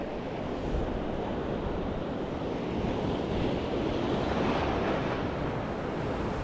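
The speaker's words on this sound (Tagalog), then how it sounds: "Grabe, mamaw yung mga alon dito" Big ocean waves crash and surge continuously as loud, broad surf noise mixed with wind buffeting the microphone, steady throughout with no voices.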